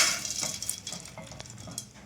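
Roasting gram stirred in a pan while preparing homemade poha mixture, giving brief dry scraping and rustling strokes over a faint sizzle, close and fairly quiet.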